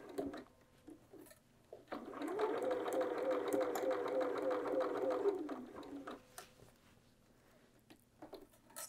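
Domestic sewing machine stitching bias binding around a bag handle, one short burst of rapid, even whirring of about three and a half seconds, fairly quiet, with brief handling noises before and after.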